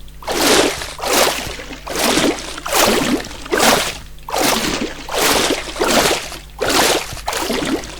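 A watering can waters crops in a modded Minecraft farming game, giving eight evenly spaced broadband splashing pours about one per second, each swelling and fading, loud and close with no voices.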